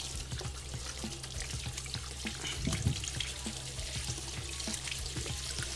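Water runs steadily from a kitchen tap while hands are washed beneath it, a continuous splashing stream with small irregular spatters, close and moderately loud with no talking.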